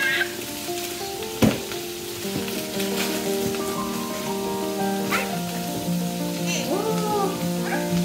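Bihon rice noodles fry in a pan with a steady, close sizzle and occasional stirring clatter, and faint background sounds come and go.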